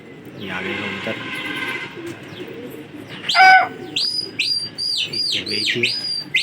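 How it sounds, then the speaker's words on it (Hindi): A flock of pigeons on a rooftop arriving, with a burst of wing flapping followed by a run of repeated chirping calls, fairly close, under ongoing talk. "ये आ गए कबूतर।"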